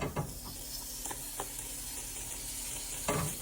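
Butter melts and sizzles in a heated pan, a soft steady frying crackle with a few sharp clinks of a utensil scattered through, close and alone without speech.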